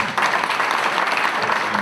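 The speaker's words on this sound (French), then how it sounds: "Applaudissez-le." A crowd applauds the first deputy mayor at a municipal installation ceremony, loud dense clapping from many hands, close and continuous through a brief burst.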